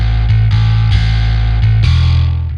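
Heavily distorted bass track from a djent metal mix, loud and gritty, with a deep low end and a series of sharp restruck notes over a few seconds.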